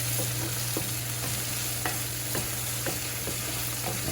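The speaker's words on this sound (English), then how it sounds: "You can hear that crust frying on there." Continuous crackling sizzle of a frittata's egg crust frying in a pan, with a low steady hum beneath and scattered soft pops and scrapes.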